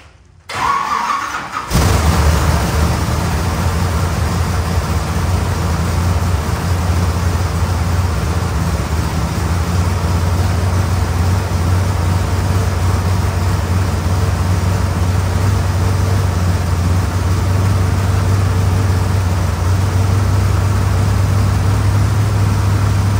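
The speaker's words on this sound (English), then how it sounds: "I'm going to attempt to crank it again and let it idle and run for about 5 minutes" After a brief crank, a freshly rebuilt engine catches and settles into a steady, loud idle that runs on continuously, with no voices over it.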